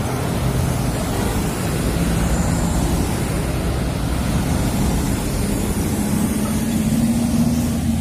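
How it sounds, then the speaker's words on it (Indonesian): A PT Pelangi bus passes on Jalan Soekarno-Hatta in Palembang. Its steady roar rises slightly toward the end, set against busy, continuous roadway traffic noise, and there is no talking. "Oh, ada bis PT Pelangi baru saja lewat."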